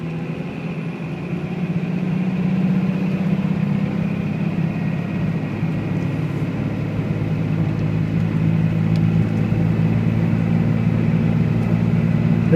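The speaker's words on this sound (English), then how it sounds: "Turbo spooling." A 2001 Dodge Ram 2500 with a Cummins diesel, six-speed manual and 4x4 pulls in fifth gear up a long hill. It gives a steady, loud low rumble with a faint turbo whine above it, and no one talks.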